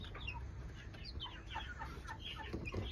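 Chickens cluck over a steady low rumble while small chicks chirp here and there, a busy, fairly quiet poultry chatter with no one talking.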